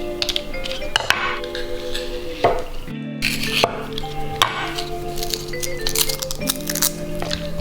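A knife slices pork sausages down the middle and presses them flat on a board, giving a close run of soft squishes, taps and clinks.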